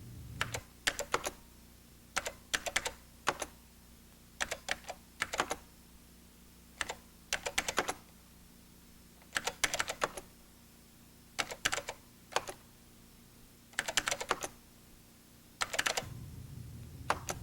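Numbers entered into a Wingz spreadsheet on a 1989 computer keyboard, short clusters of crisp keystrokes broken by brief pauses, close and steady with no talking.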